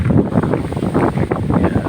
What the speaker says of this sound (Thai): วันนี้ลมแรงมากนะครับ